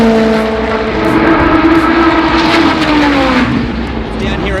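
Race cars roar off the line at the start of a Pro-Am class at a World Time Attack Challenge event, with loud, sustained engine drone and rising, shifting pitch close by throughout.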